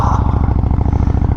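A 1998 Honda Shadow Ace motorcycle on the road, its V-twin engine throbbing in a steady, loud low pulse close by, with no voices.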